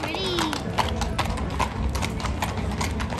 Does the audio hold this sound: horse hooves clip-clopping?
yes